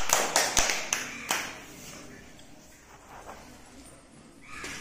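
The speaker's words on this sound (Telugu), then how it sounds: "క్లాప్స్ కొట్టండి" A classroom of young children claps in a brief scattered burst of sharp, close hand claps that quickly fades into quiet room noise, with some faint chatter.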